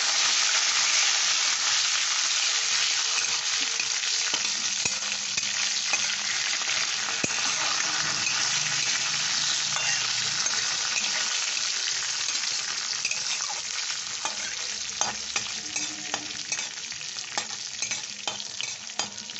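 Curry leaves and green chili fry hard in hot oil, giving a loud, dense, continuous crackling sizzle with bursts of spattering throughout. No voices are heard.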